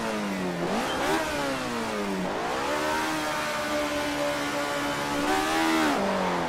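Race car engine in a racing video game at Laguna Seca, screaming and over-revving at the start with the clutch slipped, pitch climbing and dropping through several loud rising sweeps, continuous and alone.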